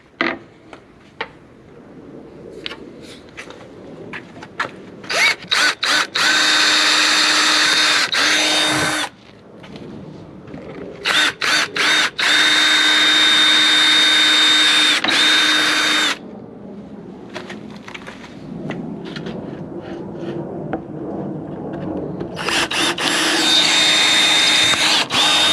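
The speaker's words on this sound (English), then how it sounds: "then you can go ahead and drill your holes" A power drill bores holes through composite gate slats in several long, loud whining bursts separated by brief pauses and handling clatter, close up with no talk.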